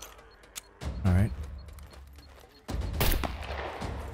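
Gunfire in the survival game SCUM, with a few sharp shots and a louder burst. The shots are close and stand out over quiet background with brief talk.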